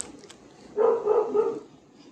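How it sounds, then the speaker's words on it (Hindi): A pet dog indoors, one that barks even at shadows, lets out a short cluster of about three barks in quick succession, moderately close, after a quiet start. "भोलू हमारा पागल है, मतलब परछाइयों को देखकर ही भौंकने लग जाता है।"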